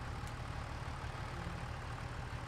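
A farm vehicle idling in Farming Simulator 25, heard as a faint, steady low engine rumble with no talking.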